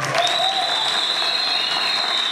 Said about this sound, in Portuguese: Marcos Afonso, pela sua salva de palmas para ele.